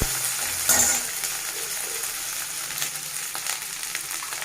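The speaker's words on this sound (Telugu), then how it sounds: "వన్ టేబుల్ స్పూన్ అల్లం వెల్లుల్లి పేస్ట్ పచ్చివాసన పోయినంత వరకు ఫ్రై చేసుకోవాలి" Ginger garlic paste frying in a pan, a steady close sizzle with a brief louder stir or scrape near the start, continuing evenly throughout without any voices.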